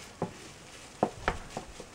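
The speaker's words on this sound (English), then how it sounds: "Alright, it's been frying for about a minute." Ingredients frying in oil in a pan for shepherd's pie, with a few distinct stirring clatters and scrapes over a soft steady sizzle, close by and moderately loud.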